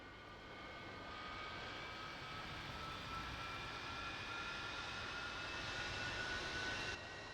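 A Su-35 jet engine starting up in a flight simulator game: a steady rising turbine whine with thin high tones over a broad rumble, loud and continuous, then cutting off abruptly near the end.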